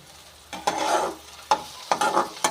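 Ridge gourd stir-fries in oil in a pan, with soft sizzling broken by several sharp scraping stirs of a spatula, close by and without talk.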